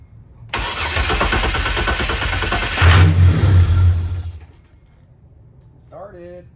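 A Mitsubishi 3000GT engine cranks and catches at close range, roaring loudly and steadily before settling and dropping away, with voices briefly audible near the end.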